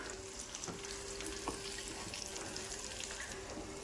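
An egg frying in a pan, a soft continuous sizzle with a few light scraping taps as it is turned over, fairly quiet and without talk.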